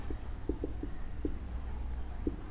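During a lesson, a teacher writes on a board, producing a few brief, soft tapping strokes spaced irregularly over a low steady room hum.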